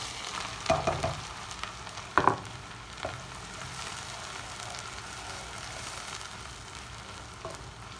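Onions fry in hot oil in a pot with a steady sizzle, broken by a few clattering stirs and clinks early on before the hiss settles.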